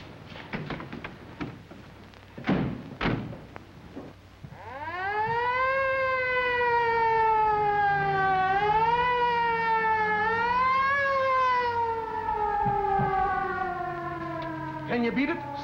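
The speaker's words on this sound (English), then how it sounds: "Follow that ambulance." An ambulance siren wails loud and close, rising from a low start into a sustained, slowly swooping tone after a few sharp knocks and clatters, with brief talking near the end.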